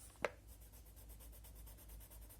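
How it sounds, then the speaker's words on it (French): A coloured pencil taps down and then scratches faintly across test paper, a quiet close-up scribble in a still room. "Je vais me prendre un papier. Un papier de test."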